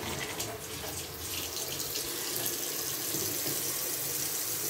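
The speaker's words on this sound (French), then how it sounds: "côté WC, on ouvre le compteur d'eau froide" Cold water rushes steadily into a toilet cistern after the cold water meter is opened, a continuous close hissing flow like a running tap, with no talk.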